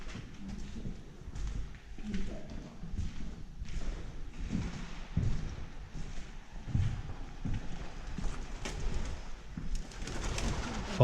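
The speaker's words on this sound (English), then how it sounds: "Fucking pigeons." Pigeons coo in an abandoned Scottish granite works, low repeated throaty calls overlapping one another at moderate distance, with scattered shuffles and knocks echoing through the empty building.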